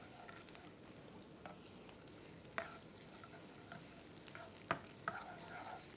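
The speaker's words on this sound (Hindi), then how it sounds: "इसको आपने खूब अच्छे तरीके से फ्राई कर लेना है।" Whole cumin seeds and other ingredients fry in a pan, a soft continuous sizzle broken by occasional sharp scrapes and clinks of a spoon stirring, faint and close, with no talking.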